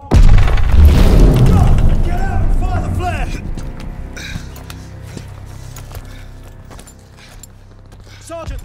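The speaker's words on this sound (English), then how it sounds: "Let's get up top before this thing explodes!" In the Call of Duty Vanguard video game, a loud booming explosion opens, then slowly decays into rumbling debris and clattering mechanical sounds, with voices speaking over it.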